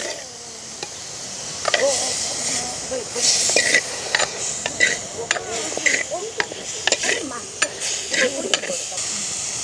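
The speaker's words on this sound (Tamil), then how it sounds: "வெங்காயம் பொன்னிறமாக வர மட்டும் வதக்கி கொண்டிருப்போம்" Onions sauté in a small amount of oil for a village-style Sri Lankan otti fish curry. A steady hiss and sizzle runs throughout, with scattered clinks and scrapes as the pan is stirred, and no talking.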